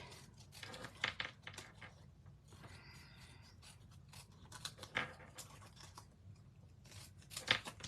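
Scissors cutting cardstock paper for a handmade farm-themed greeting card, making soft, quiet snips and rustles close by in a still room.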